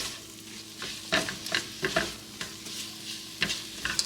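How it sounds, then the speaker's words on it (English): Food being stirred in a cooking pot during home cooking, with scraping, sizzling strokes in irregular bursts, close and fairly quiet, with no talking. "now you stir it around really good"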